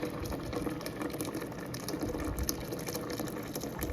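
Peach juice streams steadily from a steam juicer into its reservoir with a soft, continuous liquid trickle and gush. The sound is fairly faint and constant throughout, with no talking.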